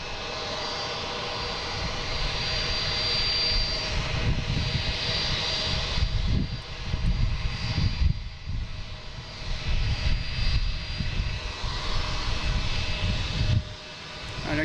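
An Embraer E175 jet at a busy airport, its engines producing a steady, loud broadband roar with a high whine that holds for the whole stretch without talk.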